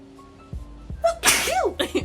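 A single sharp human sneeze, close and loud, with a quick inhaled build-up just before the burst and a short vocal trailing tail.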